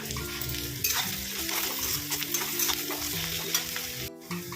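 Fried onions with garlic paste being stirred in a hot pan: a continuous close sizzle broken by scraping stir strokes and light utensil clatter, no voices.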